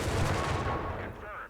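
A mortar pit fires in the video game Company of Heroes 3, with a loud booming blast and rumbling battle noise that fade over about a second and a half.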